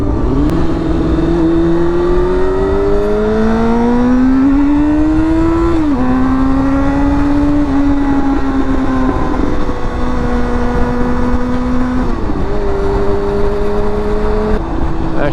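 A Honda CBR sport motorcycle's engine drones loud and close while being ridden, its pitch climbing steadily then dropping at several gear changes over a continuous ride.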